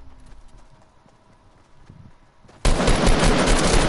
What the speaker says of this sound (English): Oh, where am I getting shot from?